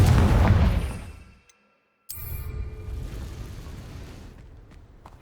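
Confringo fire spell in Hogwarts Legacy: a loud, close blast with a rumbling tail, a brief drop to silence, then a sharp crack and a second sustained roar that gradually fades.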